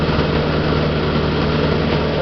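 A tractor engine drones steadily while picking up a large round hay bale of roughly 900 pounds on a farm, a loud, constant low rumble with no break over its short span.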